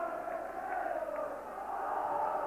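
A big, noisy football crowd roars steadily at Aberdeen vs Rangers in 1996, a dense far-off wash of voices and chanting that holds throughout with no let-up.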